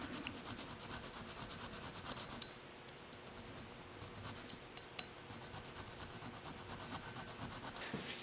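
Metal edges being deburred by hand with a tapered stone in a machine shop, a steady close scraping rub that runs continuously with a brief lighter patch midway and a couple of small clicks.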